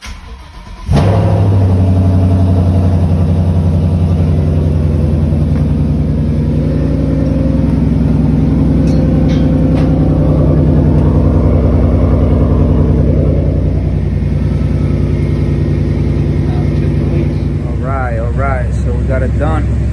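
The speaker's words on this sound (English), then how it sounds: "Start up after header install." A 2015–2017 Ford Mustang GT fitted with long tube headers and an MBRP exhaust starts up and settles into a loud, steady idle, its deep rumble continuous and close for the length of the recording.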